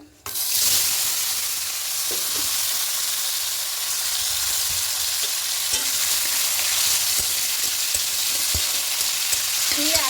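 Cut potatoes for a spicy fried potato dish sizzle loudly in a pan, with a constant close crackling hiss and occasional stirring knocks, and no voices.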